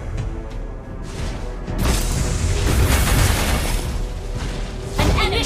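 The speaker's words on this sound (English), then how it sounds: "Your team destroyed a turret!" A turret is destroyed in the Xborg video game, and a deep booming blast rumbles out with mechanical clatter, swelling loud and sustained before a fresh burst near the end.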